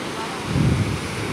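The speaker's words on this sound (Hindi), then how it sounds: "पानी एक पूरे दरिया की तरह बह रहा है।" Floodwater surges like a river across a broken stretch of Harappa Road near Chichawatni, a steady broad rushing wash that swells briefly in the middle, close and fairly loud.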